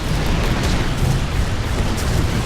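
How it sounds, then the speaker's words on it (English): Siege cannons in the video game Infested Planet fire heavy, continuous booming blasts that roll together into a loud, dense barrage of explosions with no pauses and no voices. "Awesome siege cannons. Waste everything in their path."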